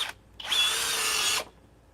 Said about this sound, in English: look how fast the drill is compared to an impact driver